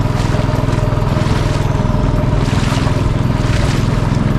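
A boat on the Mekong River slaps through waves with a loud, steady pounding rhythm under constant engine and wind roar, close to the microphone.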